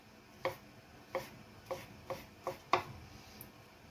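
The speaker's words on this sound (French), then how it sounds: "on émince bien" A knife slices mushrooms for a quiche in six crisp, close taps on a board, spaced unevenly over about three seconds and faint overall.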